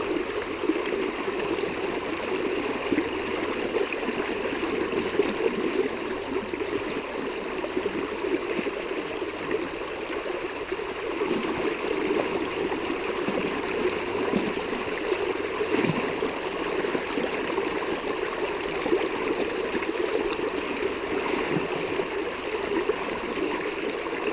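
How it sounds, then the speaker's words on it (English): Strong creek water flows steadily in a continuous close rush with gurgling texture, with no talk over it. "The water's pretty strong."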